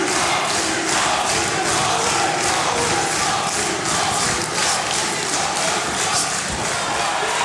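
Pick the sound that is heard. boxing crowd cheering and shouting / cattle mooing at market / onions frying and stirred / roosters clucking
boxing crowd cheering and shouting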